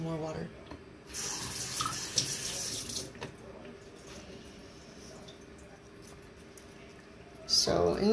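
A kitchen or sink tap runs water in two short bursts, a hissing stream around one to three seconds in, then quiet room sound before a brief splash near the end, with a nearby voice at times.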